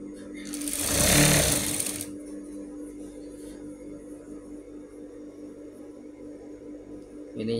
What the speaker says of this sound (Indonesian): lalu dijahit ya, dijahit dari depan sampai ke bagian ini